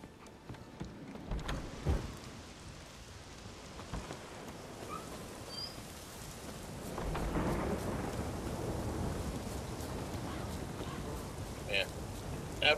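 Steady rain falls with rolling thunder in The Witcher 3, a continuous wash of downpour swelling midway, with someone talking over it at times.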